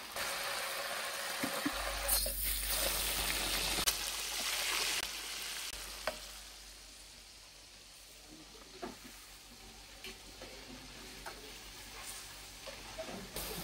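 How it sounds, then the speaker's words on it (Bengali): Chicken pieces lightly frying in hot oil in a pan for bhuna khichuri, a steady soft sizzle and hiss heard close with occasional faint clinks and stirring. "এভাবে আমি সবগুলো চিকেন ফ্রাই করে নিচ্ছি।"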